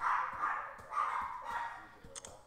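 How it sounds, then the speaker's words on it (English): A dog barks nearby in a home, a run of five or six sharp, evenly spaced barks over about two seconds, with faint background noise. "You can hear my dog barking."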